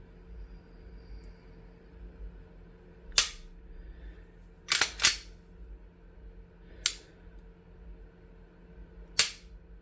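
Glock 22 Gen 5 pistol shots at a range, five sharp cracks heard at a distance, spaced irregularly with two fired in quick succession, over a low background hum.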